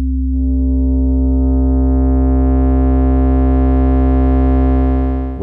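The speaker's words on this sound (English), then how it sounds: "So here are two sine waves, two octaves apart," Two pure sine tones two octaves apart sound together, clean and steady with no distortion yet, a low hum with a higher partner held loud and alone.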